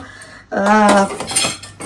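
Household steel utensils and vessels clatter and clink as they are pulled out and handled in a home kitchen, one loud burst of ringing metallic knocks followed by a few lighter taps.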